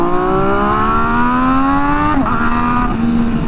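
A 2023 BMW S1000RR M Package motorcycle accelerates hard in first gear, its engine note climbing steadily as a loud, close whine before dipping briefly partway through and then continuing to rise.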